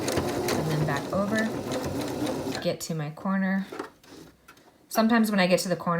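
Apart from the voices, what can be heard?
sewing machine back-stitching a fabric face mask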